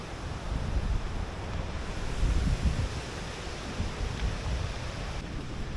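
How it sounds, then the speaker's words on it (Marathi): Savatkada waterfall in the Konkan hills pours in a steady broad roar, a constant rushing wash without pauses, close and full. "धबधब्याचा आवाज आपण ऐकतोय"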